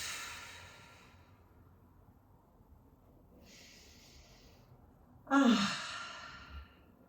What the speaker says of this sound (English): Taking a deep breath in and out.